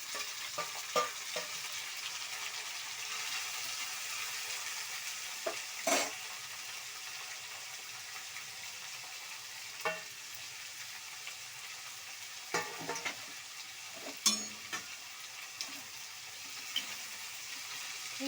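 Chopped tomato, onion and capsicum fry in a pan for vegetable bath, with a steady sizzle and scattered scrapes and clacks as they are stirred.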